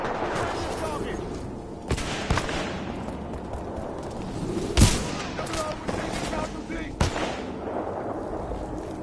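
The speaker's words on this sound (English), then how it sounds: "Get used to how much this thing kicks. Ooh. That's a Kraber right there." In the video game Titanfall 2, a Kraber sniper rifle fires several heavy booming shots amid dense battle noise and other gunfire, with a person talking over the action.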